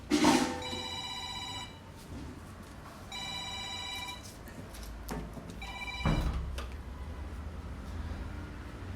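A mobile phone ringtone plays in three repeated bursts of electronic tones, moderately loud in a quiet room, with faint background rustle between rings.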